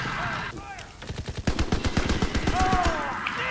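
Quick volleys of rifle and machine-gun fire in Call of Duty WWII during a V2 rocket race match, sharp repeated cracks in a tight rhythm, with whistling tones and voices mixed in around the shots.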